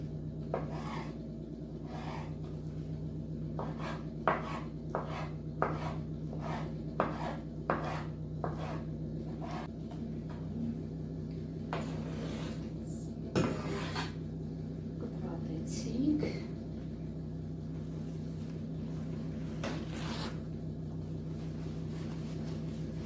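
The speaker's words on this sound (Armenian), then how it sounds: "Այսպես կտրատենք նաև սմբուկները։" A knife cuts eggplants on a cutting board in a series of sharp, regular chops, later slower and scattered, over a steady low hum.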